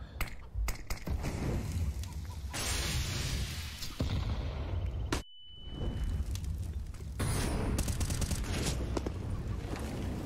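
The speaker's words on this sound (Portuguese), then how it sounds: "Tinha passado pelo tiro do Shiro" Gunfire rattles through a Counter-Strike match on the Inferno map, with dense bursts and single rifle shots layered over game ambience, a brief near-silent gap in the middle, then renewed firing.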